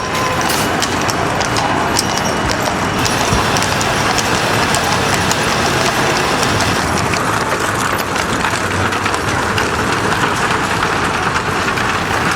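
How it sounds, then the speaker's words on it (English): Horses' hooves clip-clopping on a road during a cart parade, a continuous busy clatter of many steps under crowd murmur and outdoor bustle, fairly loud throughout. "Horse."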